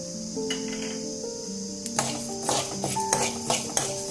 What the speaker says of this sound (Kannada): ಈಗ ಧನಿಯಾ ಹಾಕ್ತಾ ಇದ್ದೀನಿ. ಹಾಗೆ ಜೀರಿಗೆ ಹಾಕ್ತಾ ಇದ್ದೀನಿ